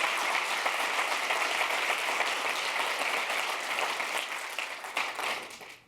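An audience at a software developer conference applauds with dense, sustained clapping that fills the room, then gradually tapers off near the end.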